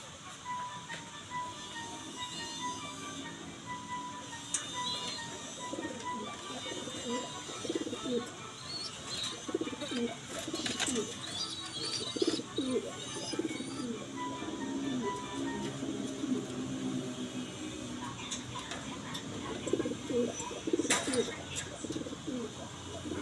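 Pigeons coo softly and repeatedly in a loft, low murmuring calls scattered through a steady background hum, with a voice speaking faintly at times.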